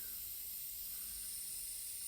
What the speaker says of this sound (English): that's what my pal Trevor set for me for the spray guns